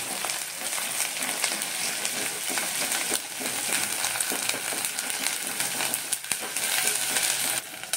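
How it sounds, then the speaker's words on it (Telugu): Ginger garlic paste fries with onions in a hot pan, giving a loud, continuous, crackling sizzle with stirring scrapes mixed in throughout. "ఇప్పుడు ఇందులో అల్లం వెల్లుల్లి పేస్ట్ వేద్దాం. వేసుకొని కలుపుకోవాలి."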